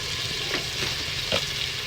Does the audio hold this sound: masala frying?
yes